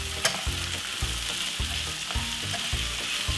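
Jerk vegetable pasta sizzling and frying steadily in a frying pan, with repeated bursts of stirring and scraping every half second or so, close and moderately loud, no voices.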